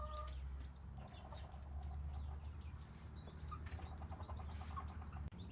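Chickens in a nursery pen cooing and chirping softly, with scattered bird calls and light rustling over a steady low background rumble.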